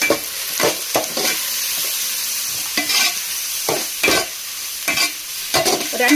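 Vegetables and cabbage are stir-fried for macaroni with chicken masala, turmeric and chilli flakes in a pan over full gas flame, giving a steady sizzle broken by repeated scraping stirs of the spatula at an uneven rhythm.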